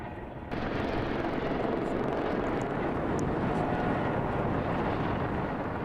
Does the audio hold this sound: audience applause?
no